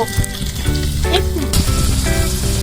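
Tomatoes and onions frying in a pan for noodles make a steady, loud sizzle close by, with small bubbling crackles and some faint clatter through it.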